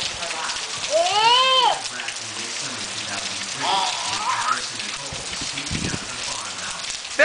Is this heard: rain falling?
yes